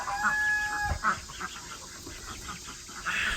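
Chickens settling in a coop at bedtime, giving soft intermittent clucks and low fowl calls, faint and close, with a brief thump near the start and a few rustles.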